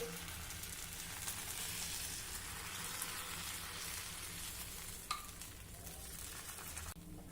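Fasting dosa batter sizzles and crackles steadily on a hot griddle, a dense continuous fry with no talking over it.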